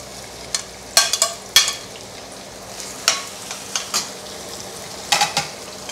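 Sliced onions frying and being stirred in a pan for a Kerala chicken curry, with a steady sizzle broken by sharp scraping clinks of the spoon at irregular intervals, close and clear.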